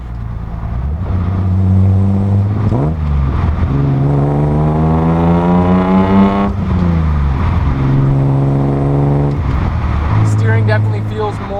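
Restomod Datsun 280Z exhaust on the road, the engine climbing through revs in long pulls, easing off and building again, loud and close throughout.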